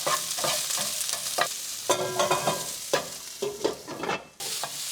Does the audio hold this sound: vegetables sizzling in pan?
yes